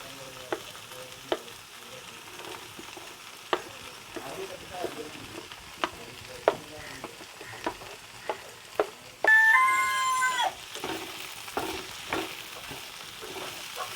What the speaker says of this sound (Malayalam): ഇനി ഇതിലേക്ക് നമുക്ക് നമ്മുടെ അരിഞ്ഞു വെച്ചുള്ള മല്ലിയിലയും ക്യാപ്സിക്കും കൂടി ഇട്ട് മിക്സ് ചെയ്ത് കൊടുക്കാം.